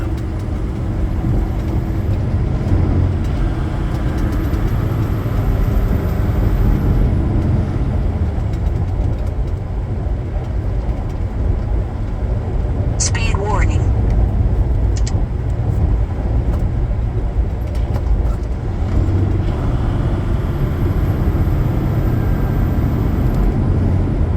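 A truck heads down a very steep incline in the Smoky Mountains, its engine a steady, loud rumble from inside the cab, with a brief air brake hiss midway.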